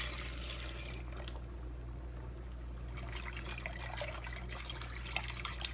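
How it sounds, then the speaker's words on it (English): Milk poured into a hot roux for homemade mac and cheese, a soft continuous liquid trickle and splash over a low steady hum, faint and close, with no talking. "I'm going to add 2 cups of milk to this mixture."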